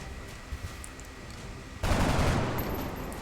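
A single gunshot rings out in XCOM: Enemy Within, a sudden loud burst that decays into a lingering rumble after a quiet, tense lead-in.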